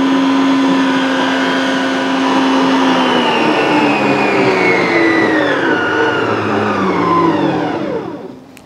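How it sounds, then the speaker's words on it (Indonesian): Mito electric hand mixer whipping egg whites at high speed, a loud steady motor whine whose pitch slowly drops as the whites stiffen, then winds down at the end, with no talk. "mixer Mito ini. Gunakan langsung kecepatan tinggi."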